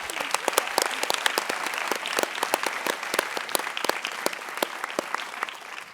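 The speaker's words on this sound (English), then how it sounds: "One more round of applause for Dr." A lecture audience applauds Dr. Hertel with dense, steady clapping, individual sharp claps standing out near the front of a continuous wash of hands.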